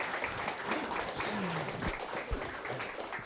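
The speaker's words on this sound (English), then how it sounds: "Applause, please." An audience at a tech meetup claps in a brief burst of applause, moderately distant and fairly quiet.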